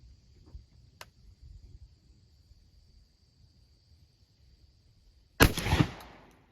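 A 12 gauge shotgun fires a 2 3/4 inch steel goose load of 29.5 grains of Blue Dot powder, a TPS wad and 1 1/8 ounce of steel BBs. Quiet outdoor ambience with insects gives way to one loud, sharp blast that dies off quickly.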